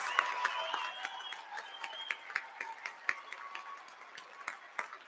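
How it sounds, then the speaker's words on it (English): Commencement crowd clapping for graduates, a moderately sized audience with distinct sharp claps over softer scattered applause, while a faint voice carries in the background. "A round of applause, please,"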